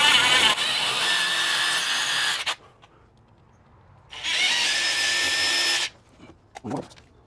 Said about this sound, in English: So let's just drill our holes first where our marks are.